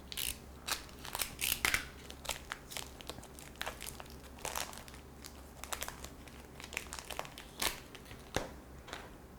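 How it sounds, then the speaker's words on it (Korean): Plastic wrapping being slit open with a knife for a craft project, a run of close crinkling, crackling rips and snips, irregular and fairly quiet, with no talk. "입구를 비닐을 찢어주고요."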